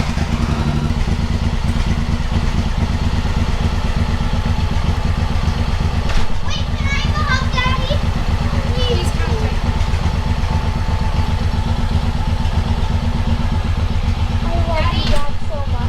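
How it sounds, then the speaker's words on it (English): A Suzuki Boulevard M109R motorcycle engine fires up and settles into a steady, loud idle close by, with voices talking over the rumble. "they're gonna come running out here when they hear my motorcycle start."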